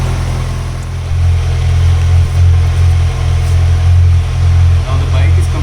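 A 2020 Kawasaki Z900 superbike's inline-four engine idles steadily while warming up, a loud, close, continuous low rumble with slight fluctuations in level and no talk.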